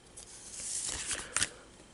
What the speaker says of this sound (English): let me go ahead and shuffle my cards